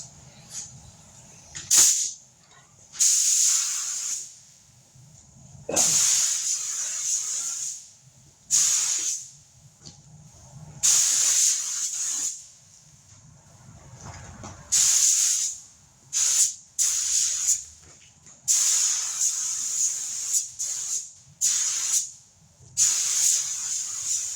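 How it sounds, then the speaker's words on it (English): Spray gun fogging a flake-filled clear coat onto Honda Shadow motorcycle parts: repeated loud hissing bursts of a few seconds each, separated by short pauses, close by. "I'm going to fog on the first coat"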